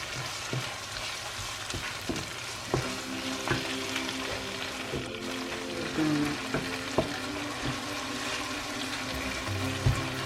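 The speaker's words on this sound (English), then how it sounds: "So my tomatoes is cooking." Tomato puree cooking in a pan for Ghanaian gari fortor, a moderate steady bubbling sizzle with periodic scraping stir sounds and soft knocks, close and even for about ten seconds.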